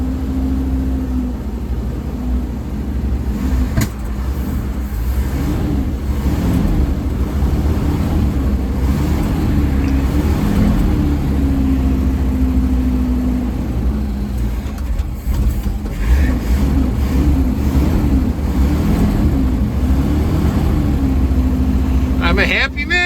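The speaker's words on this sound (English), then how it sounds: "The engine sounds absolutely great." A 1955 International Harvester R-150 truck engine idles steadily after a cold start at 11 degrees F, a low rumbling drone close by, while a person talks over it for much of the time.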